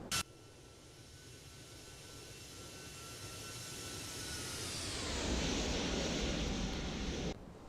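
Jet engines of a Toliss A320 Airbus climb out after takeoff in the X-Plane 12 flight simulator. A steady, loud roar with a thin tonal whine swells and shifts in pitch partway through, then cuts off abruptly.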